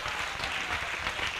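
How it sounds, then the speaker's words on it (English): A church congregation at a Sunday service claps together in a dense, steady wash of applause that stays even and fairly soft from start to finish, with no voices standing out above it. "Can we give him a mighty hand clap?"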